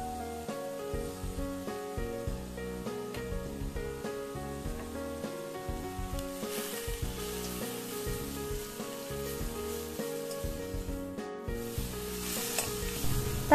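Tomatoes sautéing in a pan for a drumstick leaf soup, stirred steadily: a continuous close sizzle with scraping and stirring strokes, growing a little louder toward the end, with no talking.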